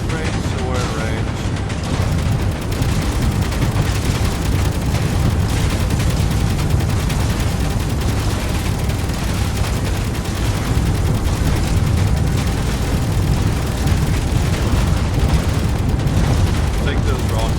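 Gatling guns and rockets fire in a video game, forming a dense, continuous roar of rapid gunfire and explosions that stays loud and unbroken throughout, with a voice talking over it.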